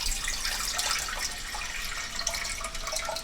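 Filtered water pours steadily from a Zero water filter pitcher, a continuous close splashing stream with no breaks and no talk.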